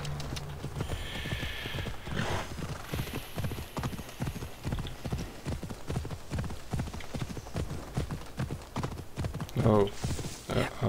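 Horse hooves clip-clop in a quick steady rhythm in Assassin's Creed Odyssey, close and continuous, with a brief whinny near the end and someone talking over it.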